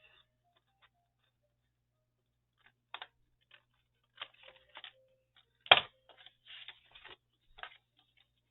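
Paper card being cut with scissors while making a handmade box card: quiet, sparse snips and crisp paper crackles in short irregular clusters, one louder cut near the middle, no talking.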